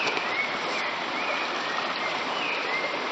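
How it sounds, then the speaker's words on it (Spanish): Rough, rushing river water runs as a loud, steady, broadband roar, close and unbroken for the whole stretch with no voices over it. "la verdad que está violenta acá el agua"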